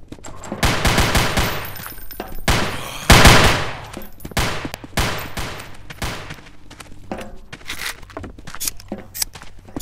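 Bursts of automatic gunfire from a Zombie Panic Source firefight, loud and close, firing in rapid volleys with short pauses and a heavy peak midway, followed by scattered single shots.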